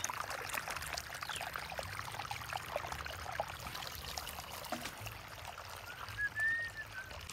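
Water pours and splashes steadily during field irrigation of an onion field, a constant flowing rush outdoors with no talking, fairly quiet overall.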